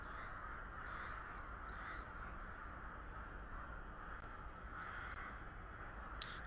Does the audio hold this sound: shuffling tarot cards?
no